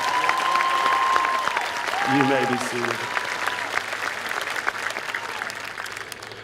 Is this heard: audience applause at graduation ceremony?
yes